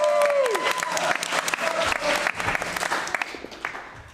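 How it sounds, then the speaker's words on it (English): A round of applause from the crowd at an alumni event at Cogswell College, dense clapping that starts strong and gradually thins out, with a few cheers or voices mixed in near the start. "Everyone, a round of applause for Nathan who saved the day."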